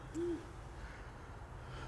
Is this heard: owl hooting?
yes